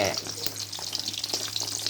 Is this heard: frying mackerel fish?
yes